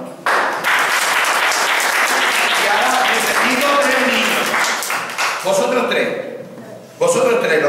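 A group of children at a kamishibai storytelling session claps loudly and briskly for several seconds before the applause thins out. An adult's voice then takes over, with brief renewed clapping.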